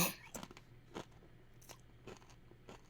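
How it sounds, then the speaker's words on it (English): Close, quiet crunching as a spicy tortilla chip is bitten and chewed, a handful of irregular crisp cracks spaced across a few seconds with no talking. "Oh, I hear the crunching."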